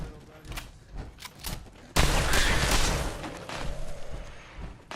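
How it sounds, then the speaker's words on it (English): In the video game Fallout 4, a combat shotgun fires several loud, close blasts in quick succession, followed by a sustained roar of gunfire and impacts. "This is combat shotgun time right now."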